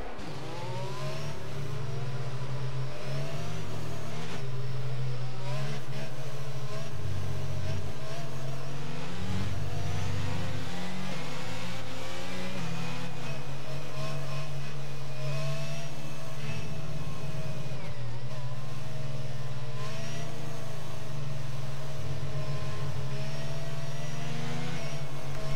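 Race cars in a racing video game run through the second sector, engines droning and revving steadily with overlapping whines for the whole stretch, loud and continuous with no talk.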